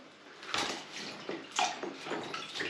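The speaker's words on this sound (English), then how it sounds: "You push it down under the water." Plastic biOrb aquarium plants and decorations are pushed down into a soaking solution, giving several bursts of sloshing and splashing water close by, with gurgles between the pushes.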